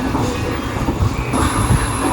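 The Rajya Rani train sits at Nilambur Road railway station, its wheels squealing over a steady rail rumble, with a sharp high whine entering partway through, close and loud.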